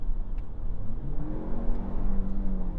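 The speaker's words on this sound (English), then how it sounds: "sounds a lot more natural, a lot more just like, an engine" A 2025 Lexus RX 500h F Sport Performance engine revs steadily, its rising and falling pitch droning loudly and continuously with no voices present.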